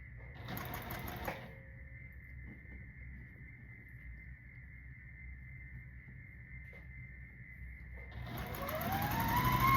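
A sewing machine stitching down a quilt block, running in a steady whirring hum for about seven seconds between short starts and stops, heard close with no talking.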